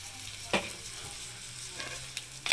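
Fish bagoong sautés with tomatoes in a pan, a soft continuous sizzle broken by a few sharp scraping stirs of a utensil, close and fairly quiet.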